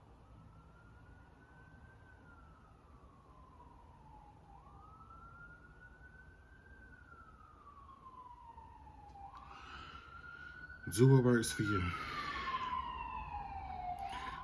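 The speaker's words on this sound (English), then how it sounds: "that was the ambulance." An ambulance siren wails outside in a slow rising-and-falling pattern, distant at first and growing louder as it passes, with a short burst of louder noise near the end; a voice speaks briefly at the start.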